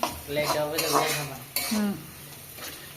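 Fish roe frying in a pan while being stirred, with clanking scrapes of a utensil against the metal at intervals over a low sizzle, close by.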